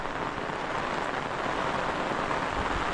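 Heavy rain pours down steadily over farm fields in rural Konkan, a dense, even hiss of drops striking the ground with no pauses and no voices.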